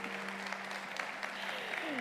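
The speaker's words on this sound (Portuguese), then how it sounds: "Cadê os aplausos do Ricardo?" A conference audience applauds a speaker coming on stage, a dense, steady clapping from a crowd lasting about two seconds with a faint voice underneath.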